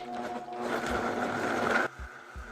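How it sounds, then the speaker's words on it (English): A blender whirs steadily as it purees boiled ingredients with chili water, a dense motor drone that runs for nearly two seconds and then cuts off abruptly, leaving a quieter room with faint low knocks. "Place all your boiled ingredients into your blender, and I'm going to add about half a cup of chili water for an easy blend."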